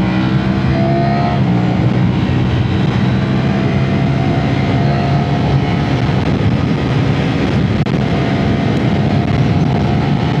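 A 2025 Ducati Panigale V4 motorcycle revs loudly and close by. Its engine roar swells and holds steadily throughout, with no one speaking over it.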